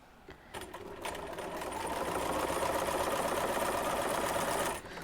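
A small Bernina sewing machine stitching quilt patches together, its motor whirring in a steady, even hum that starts after a brief pause and runs for about four seconds before stopping, close and fairly quiet.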